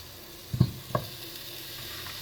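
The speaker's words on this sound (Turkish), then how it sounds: "Ardından tavuklarımızı kızartacağız." Chicken pieces fry in a pot with chopped onions, a low steady sizzle with a couple of brief knocks as the pieces are stirred or dropped in.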